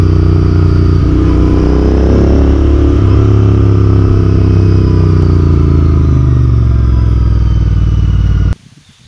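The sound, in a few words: Royal Enfield Interceptor 650 motorcycle riding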